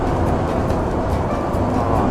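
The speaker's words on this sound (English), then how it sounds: "I'll roll down my window." Steady broadband wind roar rushes through an open truck window while driving, a continuous loud whoosh with low road rumble underneath and no voices.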